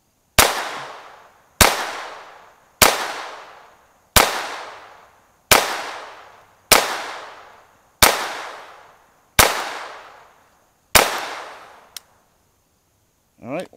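A pistol fitted with an Advantage Arms conversion fires CCI Mini-Mag rounds outdoors, nine sharp, loud shots spaced about a second and a quarter apart, each with a decaying echo, then a click and a short metallic sound.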